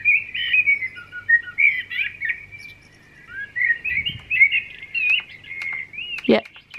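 Blackbird song from a Lumie Bodyclock Glow 150 wake-up light: clear, fluting phrases and chirps repeating over several seconds with short pauses, fairly close and bright, with a few faint clicks and brief noises near the end.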